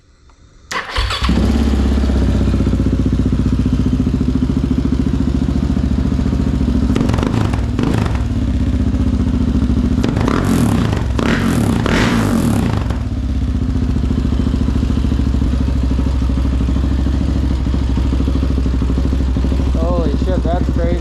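A KTM 690 single-cylinder motorcycle with an Arrow exhaust, its baffle removed, fires up abruptly and loud, then holds a heavy, close, thumping idle with several sharp throttle blips in the middle.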